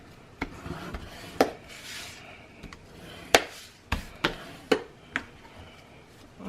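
Tape pressed along the edge of a handmade book cover is rubbed down with a burnishing tool, giving soft scraping strokes punctuated by sharp taps and clicks at irregular intervals, close and fairly quiet.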